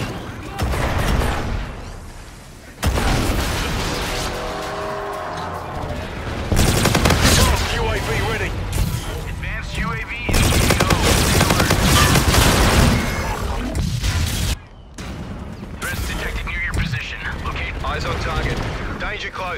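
Dense bursts of gunfire and explosive booms from the Call of Duty: Infinite Warfare video game, loud and sustained with brief pauses between volleys, mixed with mechanical clanks and occasional voices.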